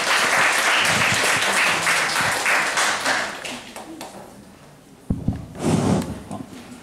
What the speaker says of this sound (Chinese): 那我们就热烈掌声欢迎洪洋先生。